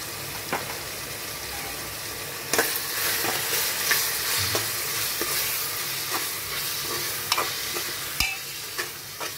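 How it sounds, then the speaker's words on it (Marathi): Whole spices sizzle loudly in hot oil as a tempering for spicy village-style chicken, a steady hiss broken by scraping stirs and occasional sharp crackles, with no talking. "संपूर्ण हे मसाले आता मी याच्यामध्ये टाकणार आहे"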